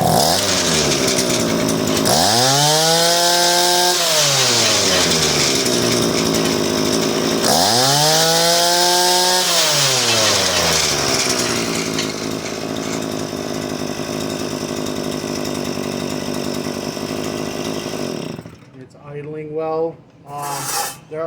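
Viper Earthquake auger post hole digger with a two-stroke engine revving at full throttle, loud and close, with two rising-and-falling rev sweeps, then a steady high drone before it dies down near the end.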